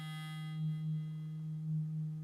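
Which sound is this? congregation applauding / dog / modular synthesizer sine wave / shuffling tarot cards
modular synthesizer sine wave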